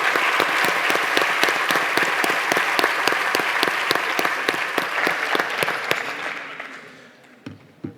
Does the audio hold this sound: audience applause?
yes